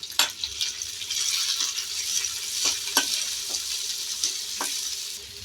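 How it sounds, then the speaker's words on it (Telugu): Chopped onion and green chili pieces fry in hot oil for a capsicum kurma, a steady close sizzle broken by several sharp clicks of a spoon stirring against the pan. "ఇప్పుడు అదే నూనెలో కొంచెం ఉల్లిగడ్డ అలాగే పచ్చిమిరపకాయ ముక్కలు వేసి వేయించుకోవాలి"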